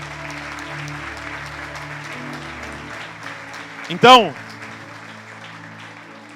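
Audience applause for actors at a church gathering, a steady clapping bed lasting several seconds with a short sharp burst near the end, while someone speaks briefly over it.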